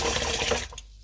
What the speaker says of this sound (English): So just kind of gently mix the rice with the water.